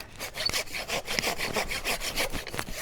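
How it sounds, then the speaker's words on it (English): A hand saw cuts through wood in quick, steady back-and-forth strokes, each one a close, rasping sweep, with no voices. "I don't know why I keep hand sawing."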